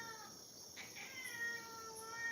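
A cat meows faintly a couple of times against a quiet background hum.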